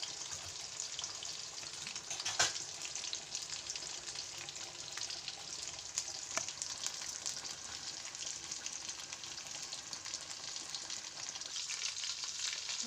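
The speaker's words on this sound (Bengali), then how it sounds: "ঢাকনা দিয়ে সুন্দর করে ভাজবো" Chicken pakora fries in hot oil under a lid, giving a soft, continuous sizzle and crackle with a couple of sharper pops, fairly quiet throughout.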